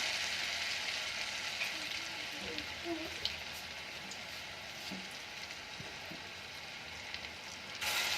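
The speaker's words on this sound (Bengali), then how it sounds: "তার জন্য আমি একসঙ্গে সব কটা ভেজে নেব।" Egg kebabs fry together in hot oil, giving a dense, continuous close-up sizzle with faint crackles, steady throughout with no clear talk.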